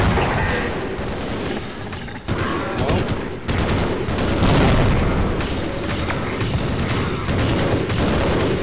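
Loud, dense bursts of booms and rapid gunfire fill a Half-Life Opposing Force firefight, with grenade blasts mixed into a continuous roar of game combat.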